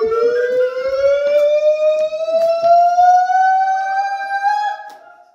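A voice imitates a siren with one long, steadily rising wail, loud and close, with a few brief clicks before it fades out, in the mountains.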